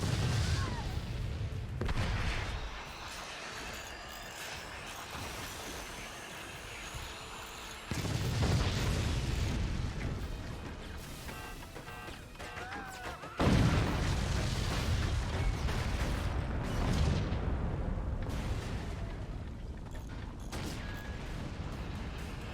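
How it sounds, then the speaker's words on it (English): Nuke striking and exploding in the physics-based fortress battle game Forts, with heavy booming blasts and rumbling fire in several loud bursts separated by quieter stretches. "The nuke lands and the fire burns."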